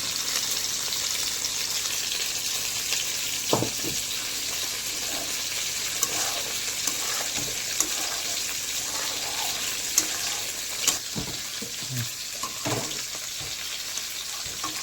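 Chopped chilli goes into spices frying in oil in a pan, with a steady faint sizzle and scattered scraping stirs and clinks across the recording, no voices.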